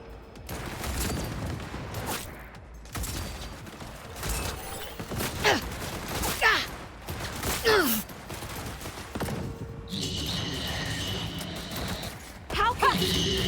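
Panzer turret gunfire in Cyberpunk 2077, bursts of shots mixed with mechanical clanks and game effects, with a voice speaking over the action.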